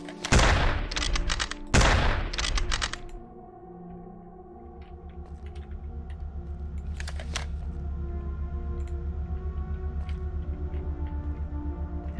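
Rapid bursts of loud gunfire in the first-person shooter Squadron AIU - Dark Storm, built with FPS Creator, crack out over about three seconds, then give way to a low, steady in-game ambient drone with faint scattered clicks.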